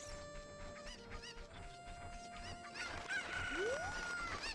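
A cucco chicken in the video game The Legend of Zelda: Ocarina of Time gives a few quick clucks and a rising squawk over game music, fairly quiet, with no talking.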